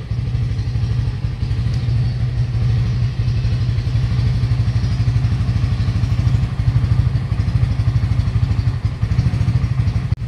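A 2023 Bajaj Pulsar P150 motorcycle engine idles steadily with a rapid, even low thump for about ten seconds, close and fairly loud, with slight throttle rises.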